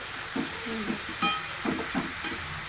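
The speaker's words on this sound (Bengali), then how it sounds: "এই যে দেখো, সবজিটা দিয়ে ভালো করে কষিয়ে নিচ্ছি।" Vegetables are sautéed in a pan with a spatula, producing a series of soft scraping strokes over a low, steady sizzle, with a sharper clink of metal now and then.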